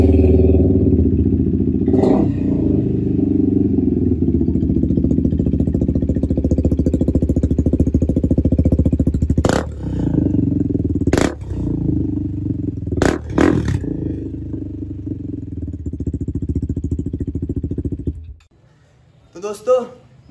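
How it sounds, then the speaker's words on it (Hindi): A track-spec KTM RC 390 motorcycle engine idles steadily and close by, with a few sharp revs or clunks along the way, then cuts off near the end. "ये वाला RC390 का साउंड आपको दिखाएंगे।"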